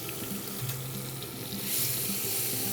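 Sun-dried tomatoes and chopped shallots sauté in a pan with a soft, continuous sizzle, joined by a brief stir and a brighter hiss near the end.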